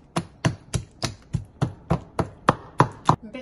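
Guacamole ingredients being pounded and mashed by hand for a ground beef tortilla filling, a steady series of about eleven sharp, evenly spaced thuds up close, with no talking.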